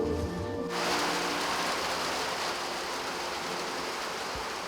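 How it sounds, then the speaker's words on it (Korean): A sudden rain shower pours down steadily and loudly, a dense, unbroken hiss of falling water that bursts in after a brief quiet moment and keeps going without a break. "그런데 갑자기 내리는 소나기"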